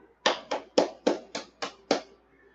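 A single person claps seven times in an even rhythm, each sharp clap close and distinct with short gaps, in a quiet room during a Kabbalah class.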